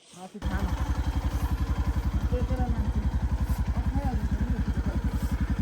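A motorcycle rides a slippery mountain road on the Sandakphu–Phalut route along the Nepal border, its engine chugging in a steady close rhythm throughout, loud and continuous after a brief quiet start.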